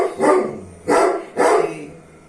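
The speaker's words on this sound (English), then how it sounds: "the bark of the dog" A pet dog barks three times in loud, evenly spaced bursts, close by, with no talking over it.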